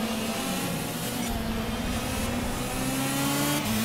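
Racing karts in the game Project Cars rev their engines at a rolling start, a loud, sustained droning whine with pitches shifting and overlapping as several engines hum together, with no talking.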